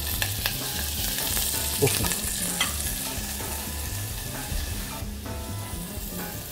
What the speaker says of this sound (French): On va mettre un petit peu d'huile d'olive dans la casserole. On va faire suer la carapace.